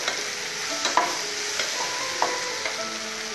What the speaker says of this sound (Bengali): টমেটোগুলিও ভালো করে একসাথে করে মেখে নেব।